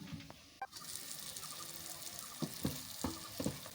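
Spice paste for chela shutki sizzles softly in a covered pan, a quiet steady fry broken by a few sharp clinks and taps of utensils.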